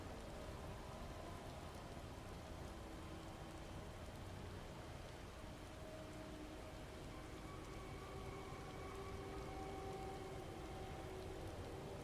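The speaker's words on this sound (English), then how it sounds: "Amid the sound of falling rain" Steady rain pours down without a break in the video game Final Fantasy XIV: Shadowbringers, a dense even hiss with faint tonal hum underneath and no voices.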